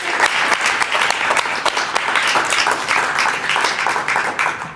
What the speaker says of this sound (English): yes, definitely clap